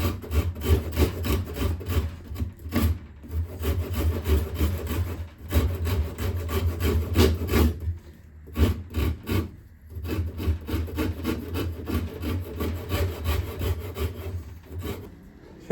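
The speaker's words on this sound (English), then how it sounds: "the Shinto rasp." A Shinto rasp files a wooden guitar neck in steady back-and-forth rasping strokes, close and loud, with a few short pauses between passes.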